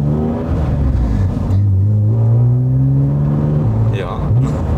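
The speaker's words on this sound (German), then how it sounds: "es ist der bestklingendste BMW der Welt" A BMW fitted with a CSL engine revs close by, its rising and falling engine tone loud and sustained, with people talking over it.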